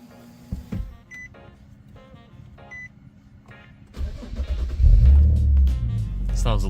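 A few quiet clicks and a faint chime, then an Infiniti G37x engine cranks and catches after new spark plugs, settling into a loud, rumbling idle nearby.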